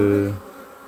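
Honey bees buzz close by during an open hive inspection, a steady droning hum that cuts off abruptly partway through, leaving faint background noise.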